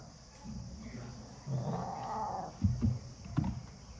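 A pet cat called Cheechu lets out one drawn-out, faint meow mid-clip, followed by a few soft thumps in a quiet room.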